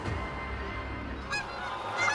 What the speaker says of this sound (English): Those geese just made a brief stop